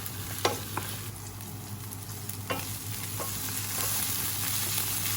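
Green curry paste fries in a pan for stir-fried bamboo shoots with fish balls, giving a steady close sizzle with occasional stirring scrapes and clinks.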